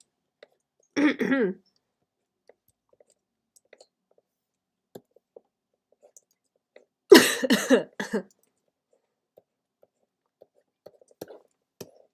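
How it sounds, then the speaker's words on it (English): Two short bursts of coughing, a brief one early and a longer harsh fit later, close up with quiet pauses and faint clicks between. "My cough isn't as bad today."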